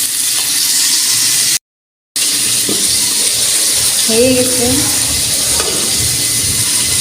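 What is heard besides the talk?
pangas fish frying in a pan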